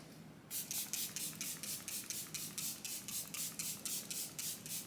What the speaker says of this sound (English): so I'm gonna spray my face down.